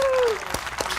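A live training-session audience claps for a guest, producing a brief wash of applause mixed with a voice and some whooping.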